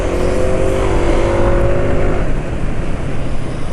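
A motorcycle with a large extra pipe fitted to the air intake after the filter revs hard, its engine roar rising and holding steady, loud and close with no talk.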